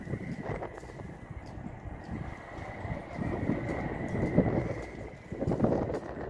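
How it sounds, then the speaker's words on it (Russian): Wind whistles through the masts of ice yachts parked on a frozen expanse: a thin, steady whistle holds over a low, gusty rush that swells and fades, with no voices. "Слышно, как ветер свистит в мачтах."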